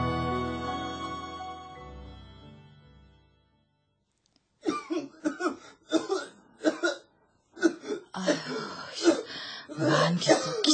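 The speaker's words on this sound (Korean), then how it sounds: "만기도 기침하네." A character with lung disease coughs and clears his throat in a radio drama. Short rough bursts come after a fading musical passage.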